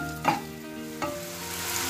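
Onion and tomato cooking in a pan for a stir-fried paneer appetizer, with a steady soft sizzle and two brief stirring scrapes, the first near the start and another about a second later, amid faint background tones.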